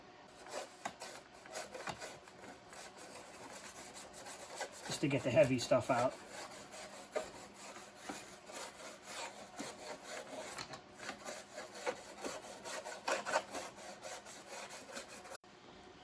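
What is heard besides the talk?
dry toothbrush scrubbing plastic speaker grill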